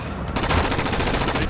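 Rapid rifle fire in Rainbow Six Vegas, a dense, loud burst of evenly spaced shots rattling without pause for over a second.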